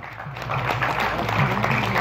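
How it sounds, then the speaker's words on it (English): A short burst of crowd applause rises at a magic show during a festival in Montreal, brief and moderately loud, with a murmur of voices underneath. "Give him a round of applause"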